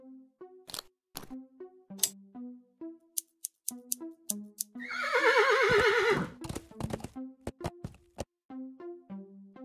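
A horse in the Willy Morgan and the Curse of Bone Town adventure game lets out one loud, wavering whinny midway, framed by sharp clicking and clip-clop-like taps before and after.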